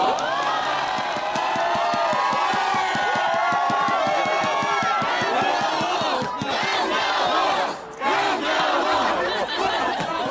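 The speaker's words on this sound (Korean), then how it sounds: "다시 한번 큰 박수를 부탁드리겠습니다" A baseball stadium crowd at a Nexen Heroes versus Hanwha Eagles game cheers and chants loudly in rhythmic unison, a dense wall of voices with clapping that briefly dips before surging again.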